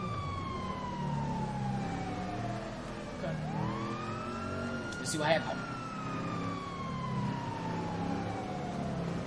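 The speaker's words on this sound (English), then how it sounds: "you got your sirens on" A police car siren in Grand Theft Auto V wails continuously with sweeping pitch glides, loud and close, while someone talks briefly over it.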